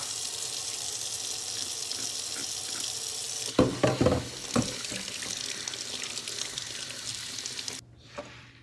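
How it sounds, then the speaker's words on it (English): Tap water runs steadily into a sink while the belly cavity of a gutted striped bass is washed out. The water splashes and sputters more irregularly midway, then the tap cuts off near the end. "And we're gonna wash out the belly."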